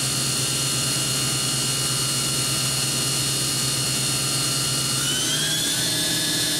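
The spindle of a Kitamura Mycenter 2X vertical machining center spins at high speed, around 8,000 to 10,000 RPM, giving a loud, steady whine that steps up in pitch near the end.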